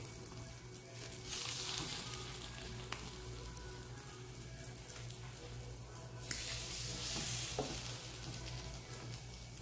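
Bread frying on low flame in butter or ghee in a pan for French cheese toast, a steady soft sizzle running throughout with a few faint clicks, no talking.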